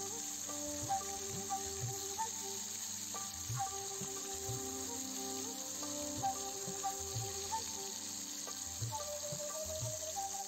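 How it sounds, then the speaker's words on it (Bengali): Fish sizzling in hot oil in a wok, a steady crackling fry with intermittent spits and pops, close and continuous, with no talking. "তেলটা গরম হয়ে গেলে একে একে মাছগুলো ভেজে নেব।"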